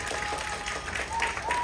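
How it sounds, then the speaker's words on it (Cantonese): An audience at a Tuen Mun community arts showcase claps together in a sustained, even patter of many hands, moderately distant and fairly soft throughout. "俾啲掌聲佢哋先"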